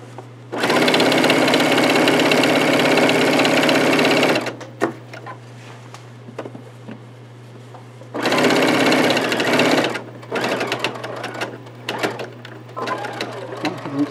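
A sewing machine back-stitches T-shirt quilt squares, running in two long steady bursts of close, loud whirring separated by a pause filled with small handling clicks and a constant low hum.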